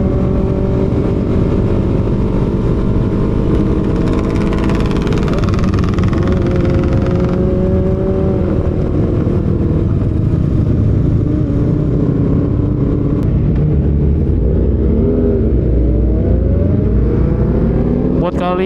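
Loud motorcycle engines, including Vespas, choppers and custom bikes, rumble and rev continuously at a Sunday morning ride gathering, filling the air with a dense roar while voices talk over the noise.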